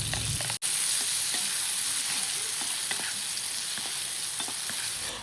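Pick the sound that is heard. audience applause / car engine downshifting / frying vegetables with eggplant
frying vegetables with eggplant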